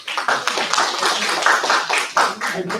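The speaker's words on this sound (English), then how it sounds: "Applause." Applause from a lecture audience fills the room, a dense steady clatter of many hands clapping with a few louder bursts, nearby and sustained without talk.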